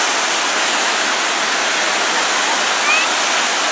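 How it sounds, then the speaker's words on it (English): A river pouring into the ocean at Witty's Lagoon makes a loud, steady rush of flowing water, continuous and close, with no break through the whole stretch. "It goes from the river to the ocean."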